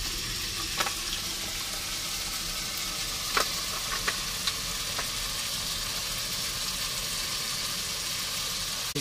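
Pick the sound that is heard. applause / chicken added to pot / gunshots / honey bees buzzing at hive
chicken added to pot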